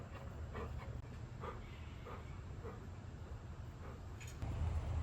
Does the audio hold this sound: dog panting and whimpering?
yes